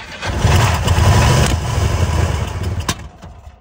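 A freshly cleaned engine roars at full throttle, a loud, dense rumble that swells, holds and then tapers off with a brief knock near the end.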